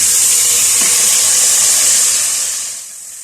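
Loud steady sizzling and hissing of marinated chicken frying in a hot pan, close up, fading slightly toward the end.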